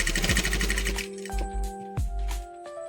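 A sewing machine stitches gathered curtain fabric in a fast, steady run of needle strokes that slows and stops, followed by a few short bursts and brief pauses, close and clear with no talking.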